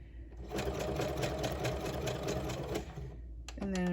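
A sewing machine runs a straight stitch and then a short zigzag while making paper tags. It gives a close, steady, rapid mechanical whirring for about two and a half seconds, then stops and is followed by a brief tonal sound.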